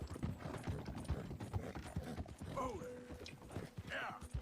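Horse in Red Dead Redemption 2: rapid, rhythmic hoofbeats on the trail with a mechanical clatter and a brief whinny, running steadily under the game's ambient sound.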